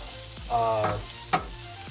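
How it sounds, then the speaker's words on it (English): Potato hash being stirred in a hot frying pan: a soft sizzle swells as the spatula scrapes through, followed by a sharp scraping clack near the end, close and fairly quiet. "So we're gonna do like a quick stir."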